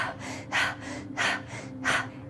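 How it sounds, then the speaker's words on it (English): Rapid, rhythmic breathing like someone working out or running, with three strong breathy bursts roughly every 0.7 seconds over a steady low hum, close and fairly loud. "When we're in an alert state and we're working out, running, we might be breathing like this."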